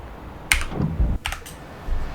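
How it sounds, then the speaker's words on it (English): A single key press on a computer keyboard, the G key, gives a few close, crisp clicks with a quiet gap between them. "So out comes the gear with G on the keyboard."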